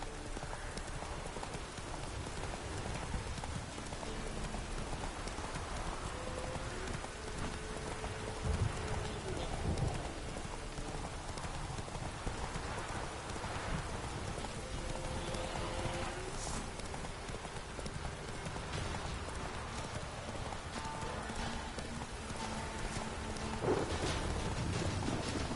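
Roach, the horse in The Witcher 3, gallops continuously, a steady rapid hoof rhythm with rain-like ambience and faint game sounds underneath.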